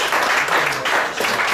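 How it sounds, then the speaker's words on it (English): Brief burst of applause for boxer Jalik Holden at a press conference, a steady wash of clapping from the room filling the whole moment. "Let's clap it up for Jalik Holden"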